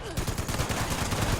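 Vampire's Prime .50 Cal machine gun firing in the video game Fallout 76: a rapid, continuous string of heavy, evenly spaced shots, loud and close, filling the short burst from start to finish.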